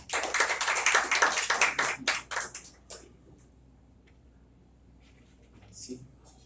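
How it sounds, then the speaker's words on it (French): A small audience at a certificate-of-honour ceremony gives a short round of applause, with sharp, distinct claps for about three seconds before it fades into quiet room tone and a faint voice. "Je vous demande de l'applaudir, mesdames et messieurs"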